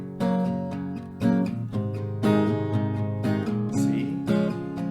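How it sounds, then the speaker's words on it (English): Chords of a song are strummed on an acoustic guitar in a steady rhythmic pattern, close and clear, with no talk over the playing. "So one round of this chord progression with the strumming here will sound like this."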